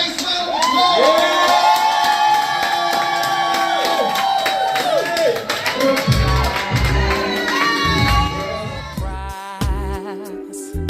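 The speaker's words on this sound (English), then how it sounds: "Yolanda Carter, give her a nice round of applause." A party audience at a birthday celebration claps and cheers loudly, with whoops and shouts over music, the noise swelling then thinning toward the end.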